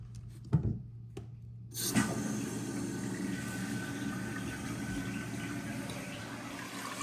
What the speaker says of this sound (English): We'll see our new fill valve fill the toilet up.